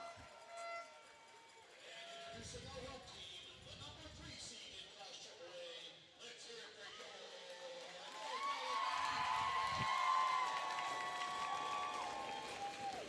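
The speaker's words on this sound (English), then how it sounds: "Capacity crowd here at the Baierl Complex tonight, if you can't judge that from the audio." A capacity crowd fills the Baierl Complex rink for a PIHL Penguins Cup high school hockey playoff game, Central Catholic against North Allegheny. The dense, steady din swells louder in the second half, with voices mixed throughout.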